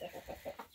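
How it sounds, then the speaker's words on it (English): A broody hen on her nest in a chicken run clucks in a series of short, throaty pulses, about five close-up bursts in under a second with no talk. "we noticed that this hen, who has been broody for maybe almost a week now,"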